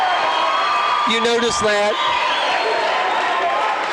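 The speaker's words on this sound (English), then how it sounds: "We're now in the middle of a hostile crowd." Hostile home crowd at a Minneapolis, Kansas high school boys basketball game against Belleville, a dense roar of voices and whoops filling the gym while a nearby commentator talks over it during free throws.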